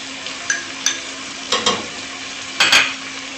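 Chicken pieces frying in a pan with golden garlic and ginger for chicken pulao, a steady close sizzle broken by several sharp scrapes and clatters of stirring.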